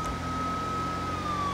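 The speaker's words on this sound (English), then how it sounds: "I need to make sure that siren's on." A steady wailing police siren in the video game LSPDFR, loud and close, holding a constant tone over a low engine rumble.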